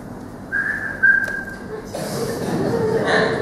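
During a religious lecture, a person whistles a short, high two-note phrase imitating a phone message alert, followed by soft breathy chuckling and faint murmuring.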